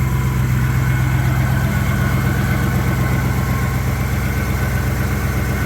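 A 1961 Buick Skylark's engine idles smoothly and quietly at close range, a continuous low steady hum with even pulsing throughout and no other sounds.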